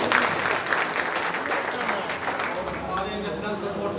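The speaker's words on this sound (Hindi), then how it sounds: "इसके लिए भी एक ताली हो जाए।" An audience at a Trust N Cart company seminar in Sahibganj applauds with steady, crowded clapping, and voices carry over it.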